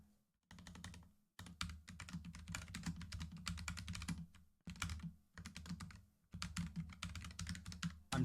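Typing on a computer keyboard with dense, rapid key clicks in several bursts separated by short pauses, close and fairly quiet, with no voices.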